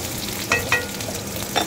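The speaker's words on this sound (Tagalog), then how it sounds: "Ay, tumatalsik siya guys" Oil sizzles and spatters steadily in a frying pan, with a few sharp pops standing out above the continuous crackle.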